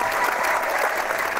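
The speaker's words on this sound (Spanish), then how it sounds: "Deja esto del aplauso porque no sé por qué lo pones" Applause sound effect played during an online talk, a steady even wash of clapping lasting the whole short stretch at moderate level, with no voices over it.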